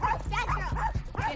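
A small dog that is aggressive toward other dogs gives several short, sharp yips and whining cries in quick bursts, close and fairly loud.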